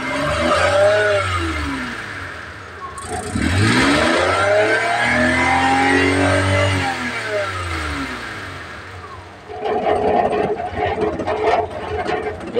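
A car engine cranks and fires up after a starter motor repair, catching and revving loudly with rising and falling engine tones, then settling into a steady close idle.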